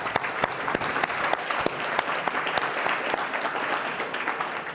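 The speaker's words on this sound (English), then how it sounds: "we should all applaud MBK Boston" An audience at a youth-movement convening applauds MBK Boston with a steady, dense round of clapping that holds through the whole stretch, with a few sharper individual claps standing out.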